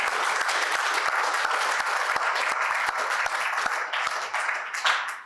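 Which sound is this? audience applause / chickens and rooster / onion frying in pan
audience applause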